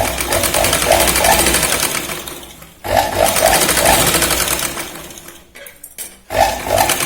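A sewing machine runs a diagonal line of stitches on a boat-neck kurti in three steady motor bursts, with brief pauses between them, loud and close.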